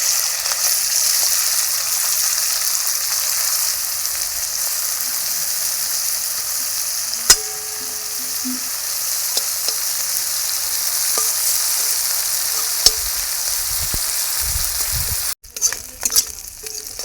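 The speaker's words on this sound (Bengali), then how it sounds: "চিংড়ি মাছগুলো ভেজে নেব।" Turmeric- and salt-coated prawns fry in hot oil in a wok, a steady, close sizzling hiss with a few faint clicks, ending in a brief clatter of utensils.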